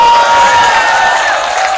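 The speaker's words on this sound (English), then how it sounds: "Let's give her a big hand of applause." Crowd at a rally against coal in Oakland cheering and whooping loudly, a dense sustained roar of voices close by with no pauses.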